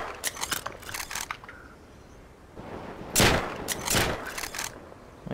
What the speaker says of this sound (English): He's taking shots.